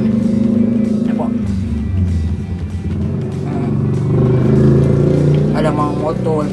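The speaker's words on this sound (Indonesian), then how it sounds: "Ada mau motor pula dah." A motorcycle rumbles past on a street near someone eating snacks outdoors. The engine swells and fades under ongoing talk.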